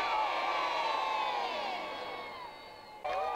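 A stadium crowd at a state ceremony in Tanzania cheers loudly in a sustained roar of voices that slowly fades, then swells again with a sudden burst at the end.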